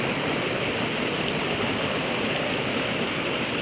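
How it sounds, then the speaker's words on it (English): Monashee Creek runs as a constant broadband rush of flowing water, near and fairly loud, unbroken throughout with no voices and no distinct splashes. "I can hear the water running, so there's still water going."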